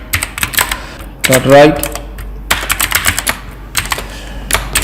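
Rapid clicking keystrokes on a computer keyboard come in close bursts, broken by a short spoken phrase, then the typing resumes in uneven flurries.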